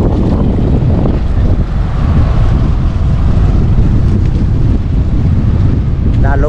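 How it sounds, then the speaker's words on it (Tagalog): Strong wind of a storm roars and buffets the microphone in a constant heavy rumble, with water sloshing underneath by a boat and no pauses throughout. "Lalong lumakas yung hangin"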